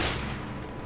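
Heavy gunfire from The Order: 1886 video game, a dense, continuous burst of shots that stays loud and close throughout the short moment.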